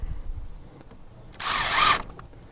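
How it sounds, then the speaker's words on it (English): A power drill drives a 3-inch ACQ treated screw into deck stair framing: one brief, loud high whirring burst about half a second long that rises in pitch, following quiet handling sounds. "So I'll just get some screws started in so it's ready to go."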